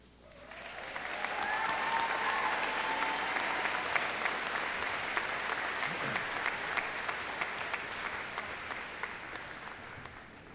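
A crowd at the Norwalk High School class of 2009 graduation ceremony applauds as the graduating class is introduced, a sustained, fairly distant wash of clapping that swells and then holds steady for about ten seconds.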